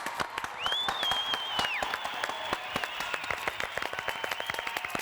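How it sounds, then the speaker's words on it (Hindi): Audience clapping and applause on a comedy show set, a steady run of sharp, close hand claps that thins toward the end, with a brief whistle-like tone near the start. "तालियां बजाओ भाई इसके लिए, क्लैपिंग कर लो खूब सारी, जोर से बनने आवाज आनी चाहिए"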